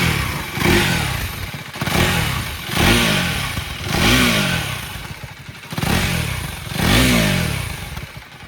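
A 2026 KTM Duke 390R motorcycle, close up at idle, is revved repeatedly in about six evenly spaced blips that rise and fall in pitch, with the engine settling back to idle between them.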